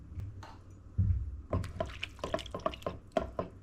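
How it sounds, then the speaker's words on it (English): A cup of water is poured into skillet lasagna sauce in a pan, giving close, wet splashing and glugging with a series of small drips and bubbling plops, no talking. "I gotta add a cup of water."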